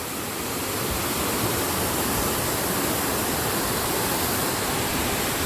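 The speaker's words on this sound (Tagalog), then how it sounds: "So we got here and the waterfalls." A waterfall beside a cliff hiking trail roars as a dense, steady rush of falling water, close and loud throughout with no voices.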